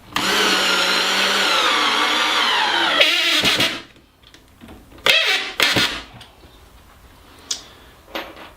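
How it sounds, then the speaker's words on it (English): A cordless power driver drives a factory screw into a rifle-length hidden wall shelf, a steady whirring motor run for about three seconds, followed by a few short clicks and handling knocks close by. "I'm going to put one more of the factory screws in here"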